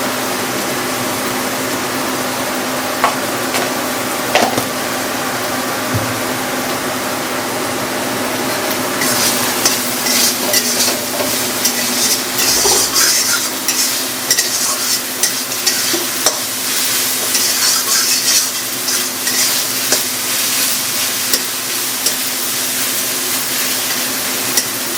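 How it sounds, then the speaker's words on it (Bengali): Spices, potato and garlic fry in a pan for a village-style chicken curry, a constant close sizzle with scraping stirs that grows louder and busier about a third of the way in. "মশলাটা একটু ভেজে নিই, আলু আর রসুন ভাজা।"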